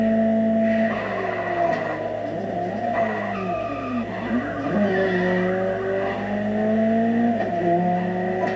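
A Ferrari 288 GTO in The Crew Motorfest racing game screeches with continuous tire squeal over a loud, steady engine drone, its pitch sweeping up and down as the car slides through corners.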